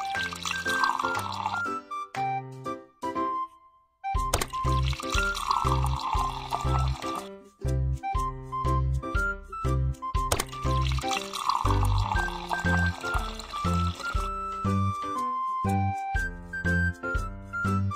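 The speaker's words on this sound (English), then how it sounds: "let's add different amounts of water into three glasses" Cartoon water pours into three glasses one after another, each a splashy trickle of liquid set against a bright, busy musical backing with short pauses between pours.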